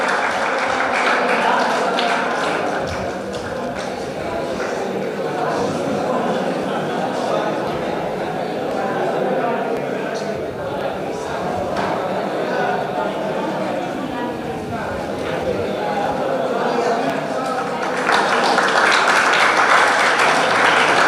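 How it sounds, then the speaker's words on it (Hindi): Audience applauding at a school prize ceremony honouring top-ranked students, a steady, dense wash of clapping from a crowd that carries on for about twenty seconds with voices mixed in, swelling slightly louder at the end. "ताली बजाइए।"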